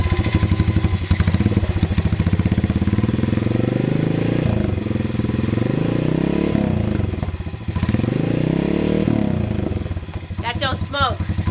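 Modded Honda pit bike engine, which bogs and won't idle, runs loud and close with a rapid chattering exhaust pulse, its revs rising and falling several times, with people talking over it.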